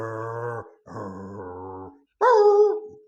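Dogs growl and snarl in a close, loud fight, with two long rumbling growls followed by a sharper, higher snarling yelp.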